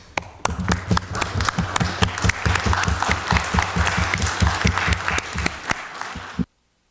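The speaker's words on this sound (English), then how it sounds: "A round of applause," An audience at a city council meeting applauds in a sustained round of clapping with sharp individual claps up close, stopping abruptly at the end.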